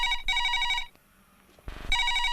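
A telephone rings in a Telugu comedy scene, with two clear electronic ringing bursts separated by a brief pause and no one talking.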